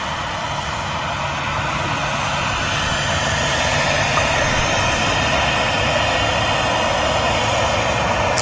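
Aircraft on the runway at Manchester Airport, a continuous broad engine roar held at steady loudness from start to finish with no voices.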